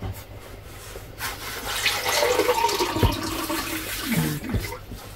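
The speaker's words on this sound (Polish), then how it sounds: "Woda leci." Water runs from a kitchen tap during gingerbread baking, a close, steady rushing hiss lasting several seconds with small shifts in flow and a few clinks near the end.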